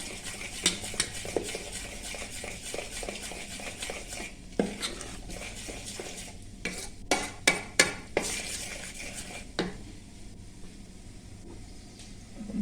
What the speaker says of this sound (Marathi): हे आता हलवून घ्यायचं साखर विरघळून घ्यायची